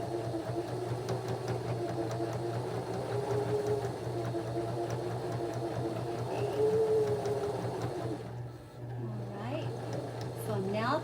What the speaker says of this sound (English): I'm going to go ahead and start sewing and try to sew that straight across